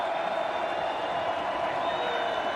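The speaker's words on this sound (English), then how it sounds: "And this Harding crowd is going to get into it, too. They're going to let them know." A large Harding crowd at a college football championship game against Colorado School of Mines roars steadily in a dense, continuous wash of cheering heard from a distance.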